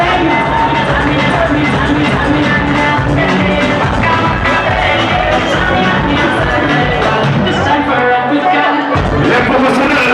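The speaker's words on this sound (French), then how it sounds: "Merci d'applaudir pour Ruben." A crowd at an integration tournament cheers for Ruben, a loud, dense roar of voices and shouts with music and chatter mixed in, sustained throughout.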